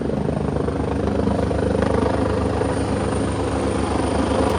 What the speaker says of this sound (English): There's a helicopter that's landing over there.